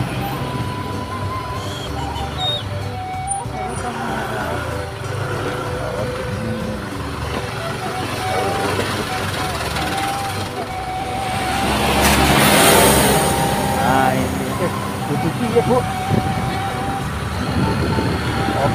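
A truck hauling stone and sand drives along a road, its engine rumbling steadily, followed by a car that swells louder as it passes close by near the middle.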